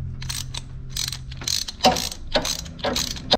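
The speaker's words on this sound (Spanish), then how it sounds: "tomamos nuestra matraca y comenzamos a aflojar" A ratchet wrench loosens a spark plug on a Mercedes C280, producing loud, close bursts of rapid clicking in repeated strokes separated by brief pauses.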